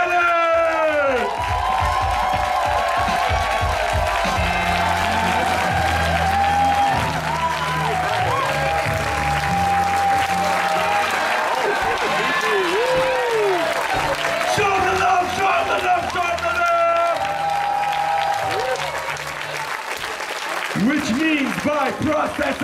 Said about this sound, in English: Make the noise for Aaron Dingle and Spanish!